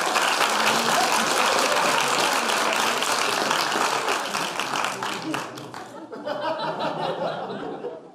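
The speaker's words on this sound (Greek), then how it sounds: "ένα χειροκρότημα?" Applause from a comedy show audience in a theatre, dense and sustained, with scattered laughter mixed in and speech over it, thinning toward the end.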